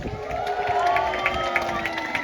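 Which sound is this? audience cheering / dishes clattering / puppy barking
audience cheering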